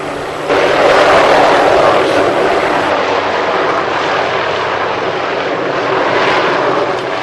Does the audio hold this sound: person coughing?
no